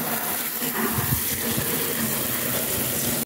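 Water pours steadily into an old bathtub being converted into a goldfish pond, a continuous broadband gush that runs unbroken and fairly loud throughout.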